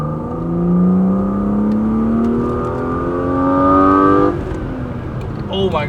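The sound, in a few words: BMW E36 engine revving with Simota air intake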